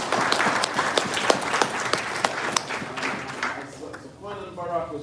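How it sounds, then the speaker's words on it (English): Audience applause at a religious gathering, a scattered burst of clapping that fades out, with a voice speaking over it toward the end. "give yourself a round of applause for turning on again"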